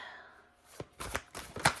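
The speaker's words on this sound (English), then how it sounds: "I'm going to go back to shuffling horizontal again." Oracle cards are shuffled horizontally in quick bursts of papery riffling, three close, crisp pulses with no speech.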